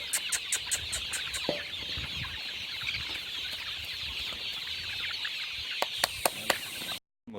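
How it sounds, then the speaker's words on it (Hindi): Desi hens on an open-air poultry farm in Pakistan cluck and chatter softly nearby, with a few sharp clicks and short calls over steady background noise. "देसी मुर्गियों का फार्म है ये"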